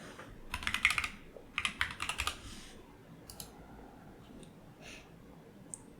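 Bursts of typing on a computer keyboard while logging in to a virtual machine running the Redox operating system: quick clusters of soft clicking keystrokes, close and fairly quiet, with short pauses between them and a few isolated key taps near the end.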